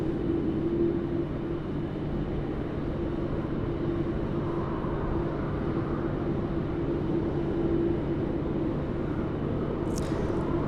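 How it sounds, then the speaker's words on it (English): China Eastern airliner taking off at Sydney Airport, a steady engine rumble with a low droning hum, heard from a distance and holding constant throughout, with no talk over it. "we've got a China Eastern departing."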